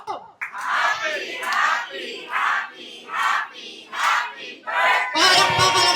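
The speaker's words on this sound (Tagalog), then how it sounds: "Palakpakan na may kasamang hiyawan." Guests at a 50th birthday celebration shout together in repeated rhythmic bursts of cheering, then burst into loud clapping and whooping at the end.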